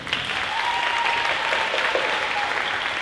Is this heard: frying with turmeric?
no